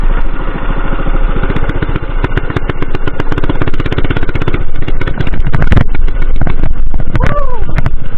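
A 212 engine minibike with no brakes runs close by, its loud, rapid putter continuing throughout.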